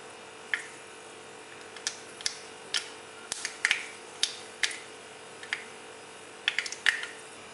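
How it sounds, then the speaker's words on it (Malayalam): Mustard seeds crackle and pop in hot oil for a Kerala mulakushyam side dish, giving a run of sharp, sparse snaps of varying loudness that come one by one or in small bursts over a low steady hiss. "കടുക് പൊട്ടിയിട്ടുണ്ട്."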